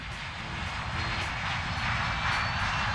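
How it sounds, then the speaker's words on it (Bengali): A steady, loud roar of an airplane engine fills the whole stretch with a constant broad rumble and hiss, no voices. "প্লেন উড়লো, আমরা জানালা দিয়ে বাইরেটা দেখলাম।"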